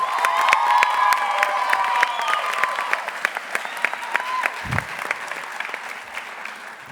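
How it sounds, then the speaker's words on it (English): A graduation audience applauds the teachers, a full round of clapping with some cheers and whoops that tapers off into scattered claps. "Can we give a round of applause for the teachers?"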